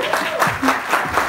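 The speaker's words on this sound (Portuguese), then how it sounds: "Aplausos para a Cris" Brief audience applause at a sales and marketing talk, with scattered clapping mixed with voices and crowd noise.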